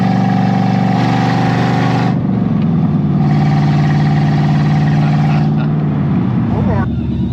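A car engine runs loudly up close, then cuts out abruptly, restarts and drops out again near the end, with uneven, faltering running between.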